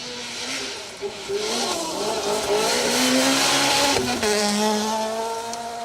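Opel Adam rally car on a rally stage at the Trackrod Rally, its engine rising and falling through gear changes at high revs, loud and fairly close, with a voice talking over it.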